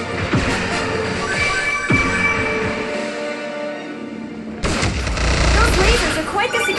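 Laser fire in the video game Kid Icarus Uprising, a loud rush of rapid bursts and blasts layered with game effects and rumbling, with character voices talking in the mix.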